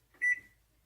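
A kitchen timer for boiled eggs goes off with one short, bright electronic beep in a quiet room, clear and fairly close, followed by silence.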